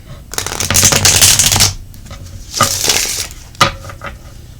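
Cards are shuffled in three quick riffling bursts, close and crisp, with short pauses between them.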